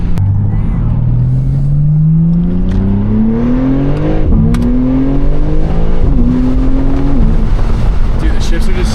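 A BMW G80 M3 engine climbs in pitch under hard acceleration, heard loud from the cabin, with quick, abrupt drops at each gear change before it rises again, over steady road roar.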